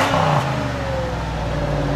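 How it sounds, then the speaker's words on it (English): A 2001 Cadillac Eldorado ESC idles through its four-tip exhaust, a low, steady engine rumble heard close with a slight rev at the start, then a smooth constant drone. "It's got like a four-tip exhaust coming out the back. They're supposed to be quiet, but you can hear it a little bit."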